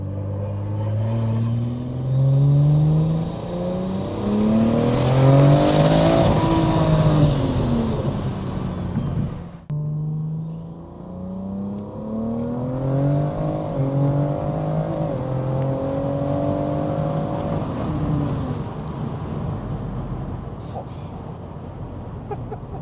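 A loud, tuned BMW M140i engine revs up and down in long sweeping waves, with a deep throaty exhaust rumble throughout and a brief break partway through.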